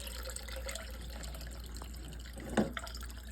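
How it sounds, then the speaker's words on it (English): Water pours into a pot while canning salsa, a steady splashing stream running the whole time with a brief louder splash near the end. "We're going to do 4 cups of water because I don't want this as thick as it was last time."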